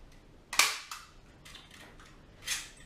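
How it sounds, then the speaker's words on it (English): A staple gun fires into an artificial hedge over a board, giving a sharp, close snap followed by a few quieter clicks and a second firm snap, with short pauses between them. "my staple gun, and just staple in the top edge over the board"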